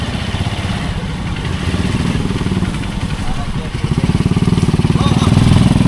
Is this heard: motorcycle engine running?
yes